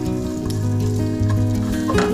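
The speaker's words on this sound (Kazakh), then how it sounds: "Бірінші пиязымызды салып қуырып аламыз." Onions frying in a pan as the base for borscht, a close, loud sizzle and crackle with a brief stir or scrape near the end.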